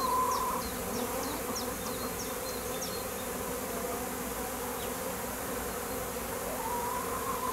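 A migrating honeybee swarm fills the air with a steady, dense buzzing drone of many insects, constant and fairly loud throughout, with scattered individual bees passing close by.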